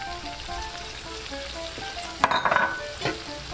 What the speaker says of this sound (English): We're just gonna let this cook really slow and just let the flavors absorb with the butter and everything, all the onions and garlic.